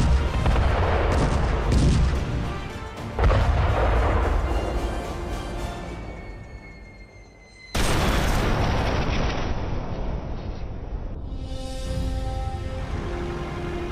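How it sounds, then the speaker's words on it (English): A T-90 Bhishma tank rapid-fires its main gun: loud, heavy booming blasts with rumbling echoes that fill the whole stretch, with a sharp new blast partway through and no voices. "The Bhishma can rapid fire 7 rounds a minute."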